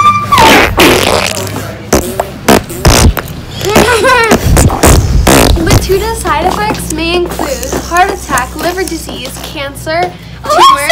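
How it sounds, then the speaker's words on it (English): Repeated farts in a comedy skit, a rapid run of loud, sputtering blasts and squeaky bursts packed close together, mixed with voices and short thumps. "And more farting than the average human."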